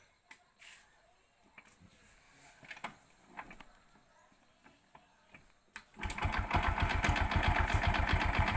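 A Honda XRM motorcycle sits quietly with a few soft clicks and handling noises, then its engine starts and settles into a loud, close, rapidly pulsing idle for the last couple of seconds.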